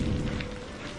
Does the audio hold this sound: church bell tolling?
no